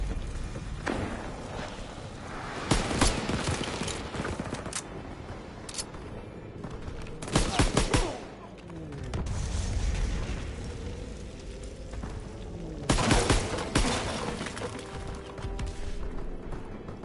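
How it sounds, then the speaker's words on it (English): Mortar strikes and gunfire in the World War II shooter Call of Duty WWII, with three heavy explosive booms landing a few seconds apart over continuous rattling battle noise and scattered shots. "you can signal for mortars!"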